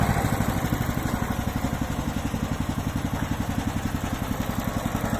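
A MAST Gartentechnik GS1500 garden shredder runs steadily nearby, its motor humming with an even, rapid clattering pulse and no voices.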